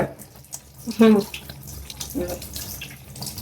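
Tap water runs over Kadaknath (black chicken) meat being washed for tandoori, a soft splashing and trickling that continues under nearby conversation.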